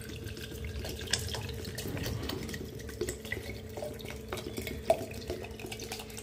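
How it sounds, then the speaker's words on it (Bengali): Water is poured into a flower vase on a dining table, a soft, continuous trickle and gurgle with a few light knocks and clinks, fairly quiet and without speech. "সেহেতু আমি এখানে জলটা দিয়ে দিচ্ছি"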